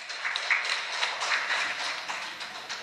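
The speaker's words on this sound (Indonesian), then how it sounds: "mari kita beri tepuk tangan yang meriah" Audience applause at a public debate of candidates for Banggai regent, a steady wash of hand claps held at moderate level throughout, somewhat distant in the hall, with no talk over it.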